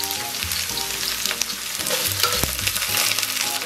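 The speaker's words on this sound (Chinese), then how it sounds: "油热咱们给里边下点切好的蒜片" Sliced garlic fries in hot oil in a wok, giving a loud, constant close-up sizzle with crackling pops and occasional stirring clinks.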